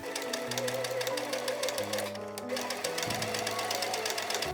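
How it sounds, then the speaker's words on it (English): A sewing machine runs continuously up close, stitching bias binding along its crease in a fast, even rattling hum with a motor tone shifting slightly in pitch. "You machine stitch along the crease."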